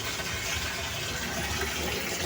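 Water gushes out of a Eureka washing machine that has been failing to drain, a loud, continuous rushing hiss with no breaks and no talking.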